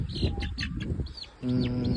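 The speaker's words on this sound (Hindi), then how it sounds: "तो फाइनली भाई हमने अपने मुर्गों के लिए 2 मुर्गियां ले ली हैं" Hens clucking in a Hindi-speaking rural farm setting, a string of near, fairly loud clucks and short rising calls across the whole span, with no talk.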